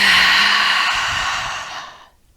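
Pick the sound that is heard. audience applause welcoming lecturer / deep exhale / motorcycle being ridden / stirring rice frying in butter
deep exhale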